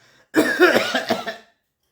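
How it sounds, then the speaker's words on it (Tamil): A single fit of harsh, rough coughing, close and loud, lasting about a second with no talking around it. "என்னால் அடக்க முடியாத இருமல்லையும் தான் நான் பேசிக்கிட்டு இருக்கேன்"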